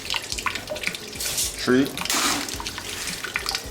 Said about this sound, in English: You want to wash this for about 2 to 3 times or until the water runs clear